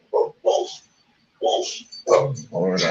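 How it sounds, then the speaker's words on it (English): Dogs bark close by in short bursts, two quick barks, a pause, then a few more sharp barks and a whimpering yelp, with no other sound between them. "I don't know what they're barking at"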